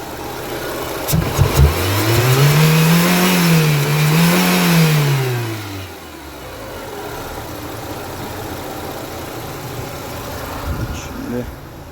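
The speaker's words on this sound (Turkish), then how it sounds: "Evet arkadaşlar aracın çalışması," A Renault Scenic's engine runs at close range, briefly revving up and back down to a steady idle hum, with no talking over it.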